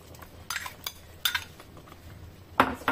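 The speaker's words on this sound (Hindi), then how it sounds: "अब मैं इसमें ये टमाटो पेस्ट ऐड कर रही हूँ।" Spoon clinks and scrapes against a pan as tomato paste goes into chicken angara frying in oil, a few sharp close metallic knocks over a faint sizzle.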